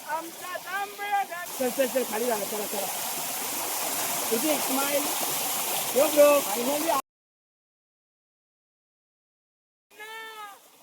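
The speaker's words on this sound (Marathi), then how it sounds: "वा खतरनाक धबधबा धबधबा दाखवतो तुम्हाला" A steady roar of rushing water from a large hillside waterfall in heavy monsoon rain fills the air while voices talk over it, then everything cuts to silence.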